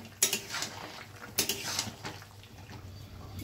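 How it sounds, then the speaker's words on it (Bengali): A spoon stirs seddho rosha, a curry cooked without onion or garlic, in a pan after sugar is added. Two bursts of metallic scraping and clinking sound close by over a soft bubbling background. "এখন দেব একটু মিষ্টি। ভালো করে নেড়ে নিচ্ছি।"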